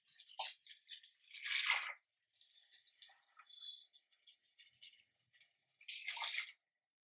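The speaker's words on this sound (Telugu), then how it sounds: "ఇప్పుడు వాటర్ పోసుకుందాం మనం." Water is poured over soaked rice in a pot in a few short, quiet splashing bursts separated by silence, with light drips and trickles in between.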